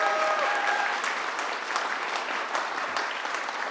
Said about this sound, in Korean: 김원교 목사님께 감사로 여러분이 박수를 쳐야 될 것 같습니다